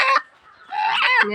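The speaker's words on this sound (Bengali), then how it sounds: "এটা মোরগ" A rooster at home lets out short clucking calls, two bursts separated by a brief pause, loud and close with no talk.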